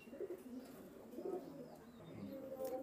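White Commando pigeons, a breeding pair kept in a loft, coo softly in low repeated bursts, fairly faint against quiet background noise.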